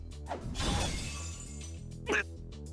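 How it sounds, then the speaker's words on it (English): Shattering metal with a bright, breaking crash rings out over a sustained musical backdrop as a sword breaks in a Fate/stay night visual novel scene, followed by a brief sharp glassy burst. "The fist, strengthened with Caster's magic, shatters my sword with a few blows."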